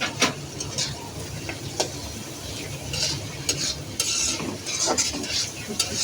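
Dried fish and jackfruit seeds fry in oil in a pan while a spoon stirs them, giving a steady close sizzle broken by frequent scraping and clinking strokes.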